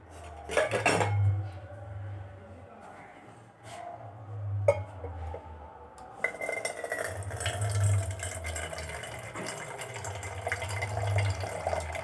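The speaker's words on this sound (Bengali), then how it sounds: "আমি পেঁয়াজগুলো কুচিয়ে নিচ্ছি আর একটা কাঁচা লঙ্কাও কেটে নিচ্ছি" A knife chops onions and a green chilli on a board in a home kitchen for street-style ghugni: a run of crisp, uneven taps and clatter, close and fairly loud, with no voices.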